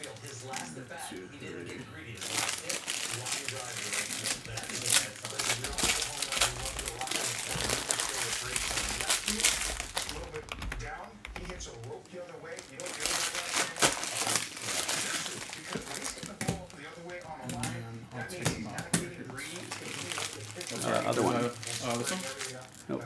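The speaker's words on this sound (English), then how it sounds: "Just ripping packs." Topps Pristine baseball card packs are ripped open and handled at close range, with repeated crinkling and tearing of foil wrappers, while people talk throughout.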